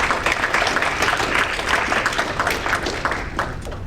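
An audience at a cannabis and hemp league meeting claps together indoors, a dense and fairly loud round of applause that holds for several seconds and then tapers off slightly.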